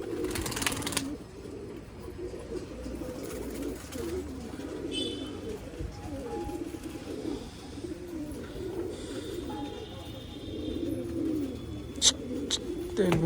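Pigeons coo repeatedly in low, rolling calls close by, with occasional chirps, a faint wing flutter and brief sharp knocks over a quiet outdoor background.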